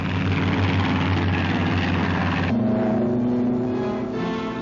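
Thunderbolt fighter planes take off from a runway in WWII Normandy, their piston propeller engines roaring in a loud, steady drone that shifts pitch partway through as the aircraft climb away.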